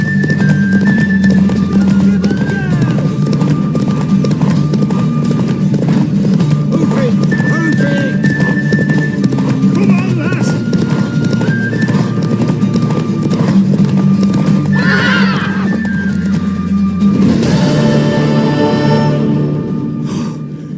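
Horse hooves clop steadily under a low droning background in the video game The Witcher 3, with a horse whinnying partway through and a sharp burst of noise near the end.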